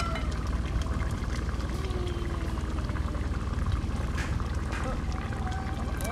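Water poured into a pot while cooking pasta: a continuous close splashing, gushing pour with no voices heard.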